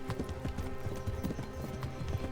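Horse hooves gallop in a fast, continuous rhythmic clip-clop in the medieval video game Kingdom Come: Deliverance, loud and close, with game ambience underneath.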